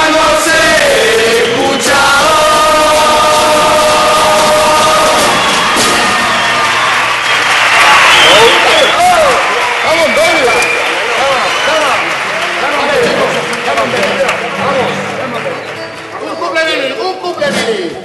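A carnival murga crowd in Badajoz applauds and cheers loudly, with whoops and children's shouts mixed in, a dense sustained roar that swells and then slowly thins toward the end.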